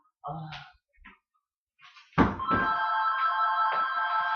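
A telephone rings steadily with a bright electronic tone for about two seconds, loud and close, after a thunk and a few brief bits of nearby speech and handling noise.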